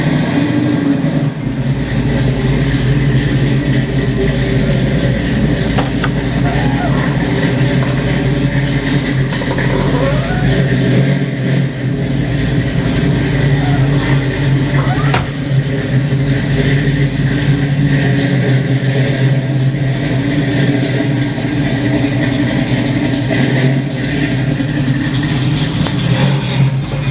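A car engine fitted with a tri-power carburetor setup and paired with a 4-speed runs loud and close, holding a steady rumbling idle for the whole stretch, with light swells that could be revs and no talking.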